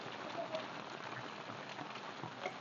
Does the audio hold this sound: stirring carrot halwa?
no